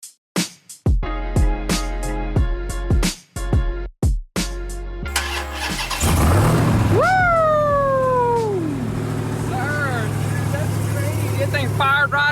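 A wrecked 2021 Ram TRX truck engine cranks in several short bursts, then fires up and settles into a loud, steady idle, with a rising whine fading away after startup.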